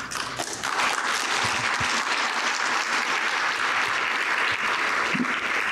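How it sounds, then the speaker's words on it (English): An audience at a 2019 health-data research conference breaks into dense, steady applause that starts abruptly and holds at an even, loud level for several seconds. "That's worth clapping, I guess."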